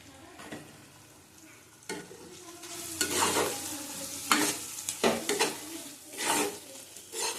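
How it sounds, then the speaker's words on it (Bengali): Tomatoes fry with spices in a pan for ghugni, a soft sizzle under repeated bursts of spatula scraping and stirring that come in uneven clusters, close and moderately loud. "ভালো করে কষিয়ে নেবো আঁচ কমিয়ে কমিয়ে"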